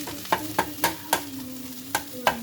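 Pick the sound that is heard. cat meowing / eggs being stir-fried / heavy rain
eggs being stir-fried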